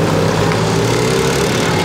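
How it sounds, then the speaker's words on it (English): Small motor engine of a tuk-tuk carrying passengers through Bangkok streets, a steady close droning hum with a buzzy low rumble, continuous and loud for the whole moment with no talking. "So here we are in the back of another tuk-tuk."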